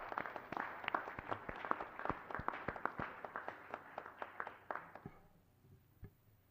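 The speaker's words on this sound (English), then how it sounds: "Let's give another round of applause" Applause at a city council meeting: a modest crowd claps steadily for about five seconds, sounding moderately distant in the chamber, then the clapping thins out and fades to a few scattered claps.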